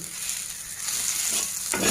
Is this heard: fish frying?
yes